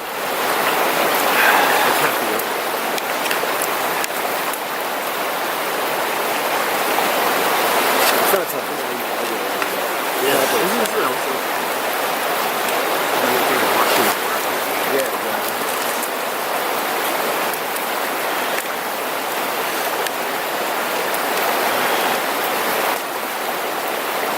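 A river rushes steadily beside a campsite, a dense continuous wash of flowing water that stays loud and even throughout without breaks.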